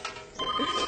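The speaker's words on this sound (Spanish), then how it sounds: "¡El teléfono! ¡Hombre, hombre! ¡El teléfono!" A telephone rings briefly in a domestic scene, a short electronic tone that starts partway through and sits among a faint background murmur.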